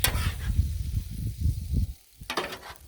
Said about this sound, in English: now we're cooking with the griddle, which is gas powered, so we're cooking with gas